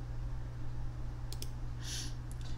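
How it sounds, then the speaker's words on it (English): A few light computer mouse clicks, spaced apart, made while saving and closing a document file, faint and close over a steady electrical hum, with no talking. "Click on Save here. And then we're going to click File tab and click Close."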